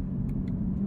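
A 2023 Chevrolet Camaro ZL1 with a 10-speed automatic drones steadily as a paddle upshift goes through in manual mode, a loud, close low engine rumble from inside the cabin with faint clicks.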